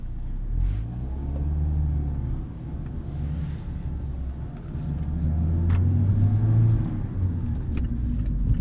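A 2019 Mazda MX-5 Miata RF Grand Touring accelerates from inside the cabin, its engine rumble rising and falling through two pulls, with the revs climbing clearly in the second half; no one speaks.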